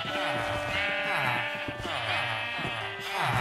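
Blocky sheep in Minecraft bleat over and over, several overlapping wavering calls filling the whole stretch, loud and close with a faint voice underneath.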